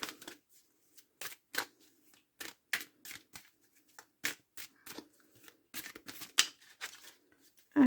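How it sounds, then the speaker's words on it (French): Tarot cards being shuffled and drawn, a string of crisp, papery riffles and snaps in uneven bursts, close by and fairly quiet with short pauses between. "On va tirer une carte, les secrets de ton avenir."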